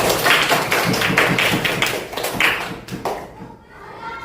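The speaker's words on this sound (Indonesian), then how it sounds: "Tepuk tangan untuk Mbak Nabila." A short burst of quick clapping from a group of primary school children in a classroom, fading out after a few seconds, with voices mixed underneath.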